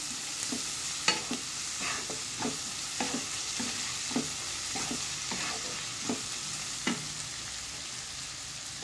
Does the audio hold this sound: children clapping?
no